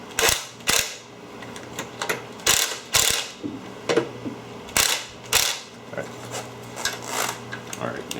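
A ratchet driver with a T30 star bit being handled and the bit swapped out during a valve service kit job, sharp metallic clicks and clacks in irregular bursts, close and fairly loud, with quieter mechanical rattling between them.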